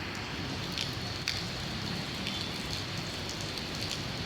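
Steady rain falls on a street in the Philippines, a dense, even hiss of drops on surfaces with a few brief louder spatters, continuous throughout and with no voices.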